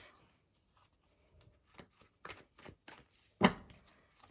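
Tarot cards shuffled and drawn by hand, quiet, soft papery rustles and flicks that grow busier, ending in one sharper riffle burst, with no voices.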